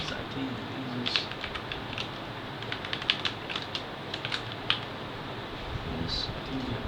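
Scattered clicks of typing on a computer keyboard, quiet and irregular bursts of keystrokes over a soft background hum, with low speech faintly present.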